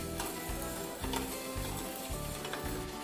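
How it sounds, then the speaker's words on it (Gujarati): A spoon stirs sugar syrup in a pan for gulab jamun, making steady scraping strokes in a regular rhythm under a soft, continuous sizzle. "આપણે સતત ચલાવતા રહીશું, જેથી ખાંડ ઝડપથી ઓગળી જાય."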